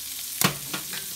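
Chopped garlic and onion hitting a hot pan for spaghetti carbonara, a sharp burst of sizzling and a stir, then a steady frying hiss.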